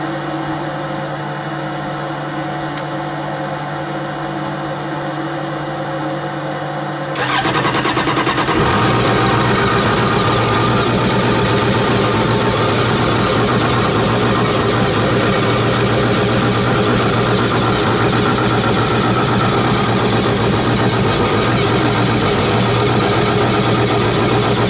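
A 2007 Yamaha SX 230 boat engine, run on a flush hose, starts with a sudden rise in level and then settles into a steady, loud, close idle that drones on without a break.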